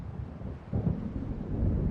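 Low rolling thunder from an approaching storm over the waves in the video game Alan Wake Remastered, a deep rumble that swells midway and carries on with a windy background, with no talk.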